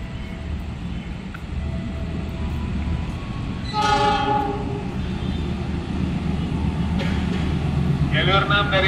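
A train at a busy Jakarta railway station at night rumbles steadily and loudly, with a horn blast midway and another toward the end, over a constant low roar.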